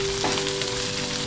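Vegetables with a teaspoon of grated ginger get stirred in a frying pan for semolina pulao, a brief, close sizzle with a quick stir.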